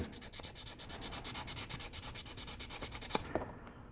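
Steady back-and-forth sanding on a resin 1/8-scale doll figure to remove a mold line, a close, rhythmic rasping scrape repeating about every fifth of a second with no talking, stopping near the end.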